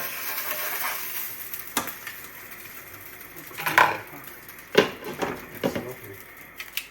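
Meatballs sizzle and fry in a pan, with a steady crackling hiss broken by a few sharp scraping and clattering knocks from stirring.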